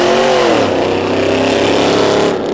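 A drag racing car launches off the line at spectator drags at Oxford Plains Speedway, a loud continuous engine roar with rising pitch filling the whole moment.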